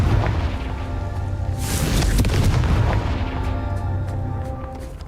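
A Confringo fire spell goes off in the Hogwarts Legacy game as a loud, booming blast with a crackling burst that swells mid-clip and then rumbles away.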